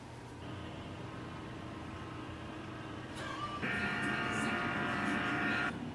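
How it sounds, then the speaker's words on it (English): An HP inkjet printer powering up after being plugged back in with all its lights flashing: a low mechanical hum, then a louder whirring motor with whines that settles into a steady drone. "Press the power button to start the printer."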